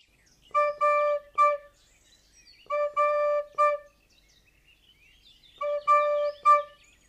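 A recorder plays three breathy notes in a short rhythmic phrase, repeated three times with pauses, mimicking a Eurasian collared dove's call.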